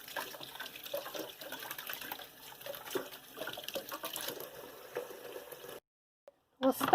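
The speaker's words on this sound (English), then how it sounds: "And rinse the bananas separately." Bananas rinsed under a running kitchen tap, a steady broadband water wash with splashy fluctuations lasting most of the clip, then a brief silence and a short louder splash at the end.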